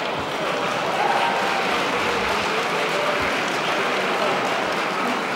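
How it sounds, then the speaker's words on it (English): Audience applause at a press freedom awards gala, a dense, even wash of clapping from a large crowd holding steady from start to finish. "Yes, big round of applause."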